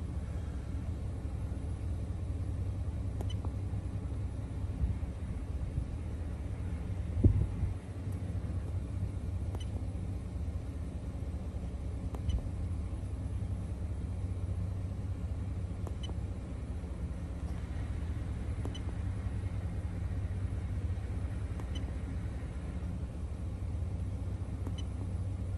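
A 2011 Ford F250 Super Duty XLT pickup idles with a steady, low engine rumble that holds even throughout, with one brief thump partway through and no talking.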